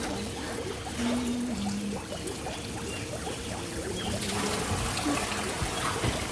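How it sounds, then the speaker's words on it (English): Water trickling and dribbling steadily out of the bottom of a leaking container during a timed challenge, a continuous wet patter with occasional voices and tones in the background. "The water coming out the bottom?"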